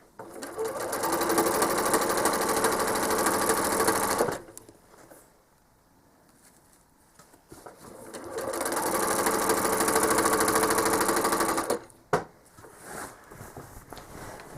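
A sewing machine stitches a feathered quilt border in two long, steady, close runs, separated by a quieter pause with light handling sounds and a brief click.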